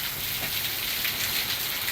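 Dense, steady rain from Hurricane Milton hisses evenly on surfaces nearby, a constant wash of drops with no break and no talking.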